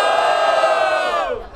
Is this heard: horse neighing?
no